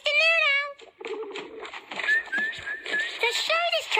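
A voice imitates bird calls with warbling whistles and chirpy coos in a playful children's TV setting, a few short rising phrases close to the listener.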